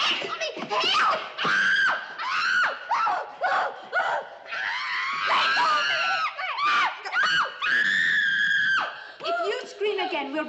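A girl screams repeatedly in a film drama, with loud, shrill, sustained cries broken by short gasps and brief pauses, close and intense.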